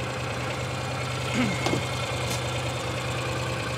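A Mahindra Retriever 750 utility vehicle engine runs at a steady, loud idle with an even low throb, rising slightly as fuel is added around the middle before settling back.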